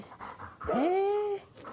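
A large Saint Bernard lets out a drawn-out, whining howl that rises and holds steady, close by, with faint panting before and after.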